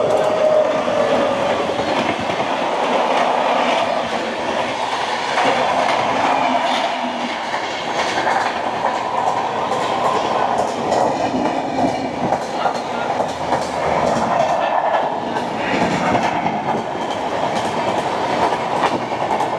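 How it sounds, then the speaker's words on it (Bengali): Train number 20506, the New Delhi–Dibrugarh Rajdhani Express, thunders past in a loud, sustained rumble with rhythmic clickety-clack of wheels over rail joints and occasional metallic squeals, continuing steadily for about twenty seconds. "নতুন দিল্লি থেকে ডিব্রুগড় রাজধানী"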